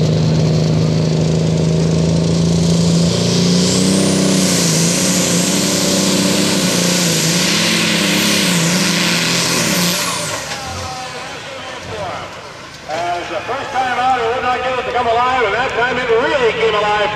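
A John Deere pulling tractor with a 350 engine roars loudly up close at a truck and tractor pull, then fades away after about ten seconds while an announcer talks over the event noise.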